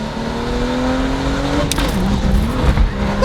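A BMW M235i with a VRSF downpipe rumbles loudly up close, its exhaust giving off a few sharp crackling pops over the throaty drone.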